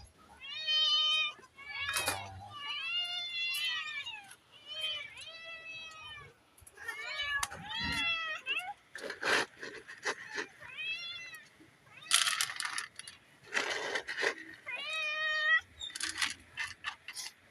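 Several cats meow repeatedly at feeding time, with overlapping, rising and falling calls close by and a few sharp clinks and ticks between them.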